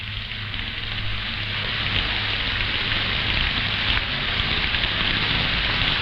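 Steady, dense rain falls during a violent night storm, a continuous close hiss of drops without pauses and no voices.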